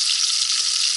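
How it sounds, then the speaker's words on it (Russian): Fresh fish frying in a pan gives a steady, loud, close sizzle with a dense crackling hiss that runs unbroken for about a second, with no voices. "мы просто с Андреем жарим свежую рыбку"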